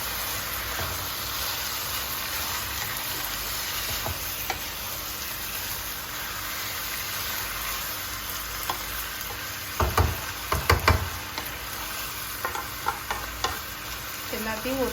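Chopped tomatoes and salt sautéing in a pan for spicy South Indian chicken masala, a steady sizzling hiss with occasional stirring scrapes and clatters near the end.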